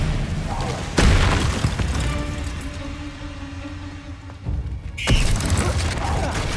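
Expelliarmus spell casts in Hogwarts Legacy combat, heard as sharp, booming bursts about four seconds apart, with a lower rumble between them.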